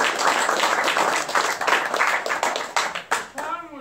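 Dense audience applause at a bookstore book signing, loud and close with many overlapping hand claps that thin out into scattered claps near the end.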